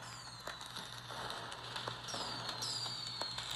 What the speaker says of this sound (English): the fireworks are always so loud